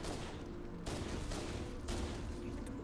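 Pistol fire in Halo: The Master Chief Collection cracks out in a dense, continuous barrage of overlapping shots throughout, loud and close, with no voices.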